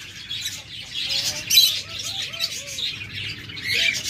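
Caged diamond doves and other pet birds call and chirp continuously, a busy mix of high twittering over short whistled notes, close and steady throughout.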